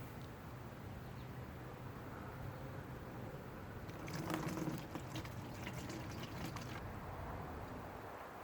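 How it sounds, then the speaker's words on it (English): Used motor oil from a 2007–2014 Chevy Silverado is poured back into its original container, a steady liquid trickle with a louder gurgling fill in the middle, close by over low background noise. "just pour the old oil back in the container it came from."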